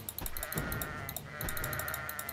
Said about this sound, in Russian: Давайте поубиваем овец.